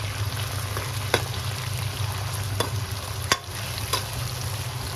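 Sambar ingredients with small pieces of potato sauté in a pan, a soft continuous sizzle broken by a few sharp scrapes of a stirring spoon, close and fairly quiet.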